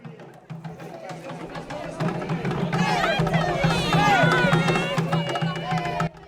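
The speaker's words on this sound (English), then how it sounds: "welcomed back home to an anxious and excited crowd of fans" An excited crowd of fans, friends and family welcomes Papua New Guinea's national women's football team home after their OFC Women's Nations Cup win, with cheering, shouting and chatter building to a loud, dense swell before cutting off.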